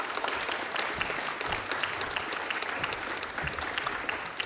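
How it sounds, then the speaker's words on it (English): A crowd at a combat-sports event gives a steady round of applause for a fighter after the match, a dense continuous clapping wash at moderate distance with no talk. "Everyone, give a round of applause"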